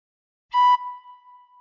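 One short, bright tin whistle note, blown gently with all holes open, sounds close and clear, then a faint ring fades in a quiet room.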